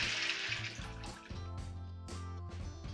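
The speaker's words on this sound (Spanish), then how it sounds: "y añadiremos 4 litros de agua." Water pours steadily into a container of tiger nuts being soaked for horchata, a continuous splashing, gurgling flow close by with shifting pitch as the vessel fills.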